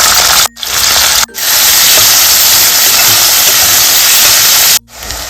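Sliced onions hit hot oil in a wok already holding dried red chillies and whole garam masala, giving a loud, harsh, continuous close sizzle broken by a few abrupt cuts.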